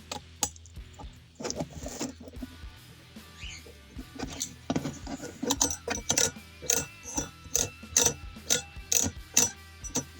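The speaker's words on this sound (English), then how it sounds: "use what I've got to be able to hold this, which is this thin pair of pliers. And tighten this one as well." Thin pliers tighten a part on an RC crawler work stand, giving close, sharp metallic clicks and ratcheting ticks that come faster and more regularly toward the end, with no talk.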